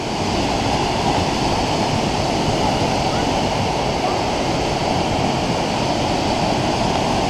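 Burney Falls roars as a steady, dense wash of falling water heard from a nearby vantage point, loud and unbroken throughout.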